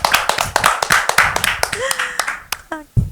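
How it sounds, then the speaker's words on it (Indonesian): A small podcast audience claps for a guest, with sharp, close claps in a loose, uneven rhythm while people talk over them. "tepuk tangan dulu buat Bu Winda."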